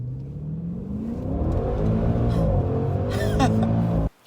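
A Maserati Levante GTS SUV's Ferrari-built twin-turbo V8 revs up and climbs in pitch, roaring loudly and close, then cuts off abruptly.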